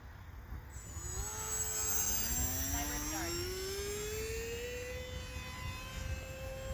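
A Hobbyzone Aeroscout RC plane whines overhead with a steady electric motor tone that drifts in pitch as it passes and comes in to land, moderately near and fairly loud.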